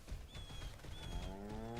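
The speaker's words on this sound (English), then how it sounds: "It's honestly making too many moo noises too" A cow in the video game Crimson Desert gives a drawn-out, low moo near the end, over a steady game ambience with faint tonal chirps.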